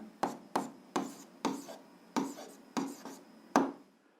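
A pen writes an algebra expression on paper in eight short, evenly spaced strokes, each a crisp scratch that fades quickly, close and distinct.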